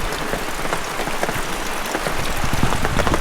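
Rain patters steadily on a shade sail, a dense, even drumming of drops close overhead that continues without a break and with no talk.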